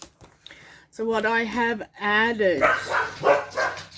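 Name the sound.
dogs barking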